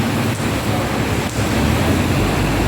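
Strong typhoon wind in Hong Kong roars steadily and loudly throughout, a dense broadband rush with no voices.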